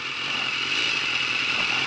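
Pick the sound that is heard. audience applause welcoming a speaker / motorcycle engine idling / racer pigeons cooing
motorcycle engine idling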